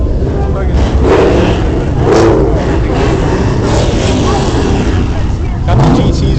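A GT car's engine rumbles loudly and close at a street car meet, surging in a few rough bursts, with voices mixed in underneath.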